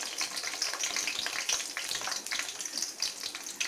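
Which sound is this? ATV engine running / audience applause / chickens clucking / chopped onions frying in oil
chopped onions frying in oil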